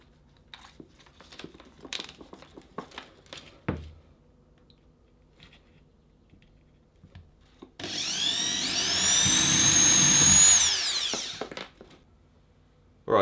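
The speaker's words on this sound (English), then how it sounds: "so I will drill a pretty big hole" Scattered taps and handling noises, then a power drill whines for about three seconds as it bores a hole in a hidden blade gauntlet for a costume, loud and close.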